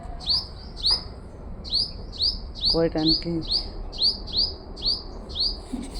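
Small birds chirp in a vegetable garden in the morning, with bright repeated tweets at a steady rhythm of about two per second, fairly close and clear, and a brief lower call midway.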